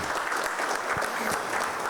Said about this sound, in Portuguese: eu peço uma salva de palmas para o Carlão da OCB